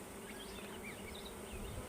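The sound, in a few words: honey bees buzzing during a full hive inspection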